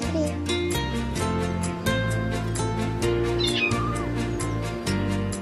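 A kitten meows repeatedly, close and clear, over a steady background of music with a voice speaking under it.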